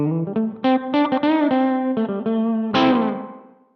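A Donner Verb Square reverb pedal colours a guitar played through a miked amp, with picked notes and strummed chords ringing out into a roomy reverb tail that fades at the end.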